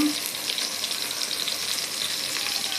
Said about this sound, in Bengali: আর রসুন লঙ্কা বাটা দিয়ে ভালো করে কড়াইতে নেড়ে নেব